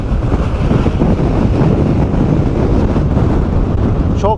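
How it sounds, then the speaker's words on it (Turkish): Strong wind on an isolated island in Taiwan buffets the microphone with a constant heavy rumble and roar, close and loud throughout, with no voices. "Çok fena bir rüzgar var."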